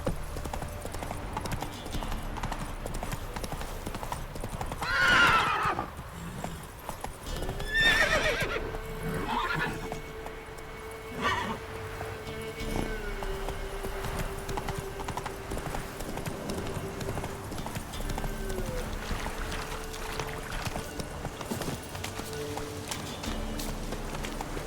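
Roach the horse galloping in The Witcher 3, steady clip-clop hoofbeats running throughout with a couple of neighs and whinnies, over a continuous game ambience and music.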